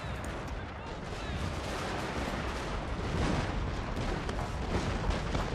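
Massed musket and artillery fire fills a river-ford battle in the Total War: Fall of the Samurai strategy game, a dense, continuous roar of overlapping shots and booms at steady loudness throughout.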